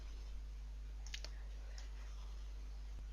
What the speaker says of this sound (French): Je clique sur OK.